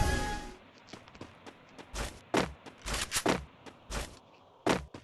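Gunfire in the Free Fire mobile game, a string of separate sharp shots and thuds spaced unevenly over a few seconds, moderately loud with no talk.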